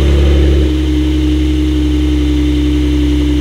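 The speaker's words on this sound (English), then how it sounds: "the one that you are hearing in the back is actually, yeah, the new Brabus Rocket Porsche 911 Turbo S 900 horsepower rocket version" A 900-horsepower Brabus Rocket Porsche 911 Turbo S engine runs loud and close, a deep droning rumble that drops slightly after a brief opening surge, then holds a steady throbbing idle.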